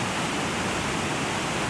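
A small waterfall flows weakly in a dry season, a steady, even rush of water that fills the scene without any voices.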